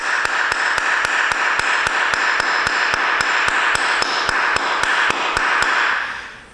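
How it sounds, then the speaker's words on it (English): A wooden hammer taps on a Hyundai Accent during a bearing replacement in a fast, even rhythm, about twenty sharp knocks close by over a ringing hiss that fades at the end. "It's just a wooden hammer."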